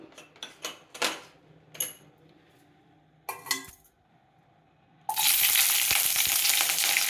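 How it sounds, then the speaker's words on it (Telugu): Green chillies dropped into hot oil in a kadai, with a few sharp clinks and pops before a loud, steady sizzle bursts up and carries on close by. "కడాయిలో 2 టేబుల్ స్పూన్ ఆయిల్ వేసుకొని ఆయిల్ హీట్ ఎక్కాక పచ్చిమిర్చి వేసుకోవాలి"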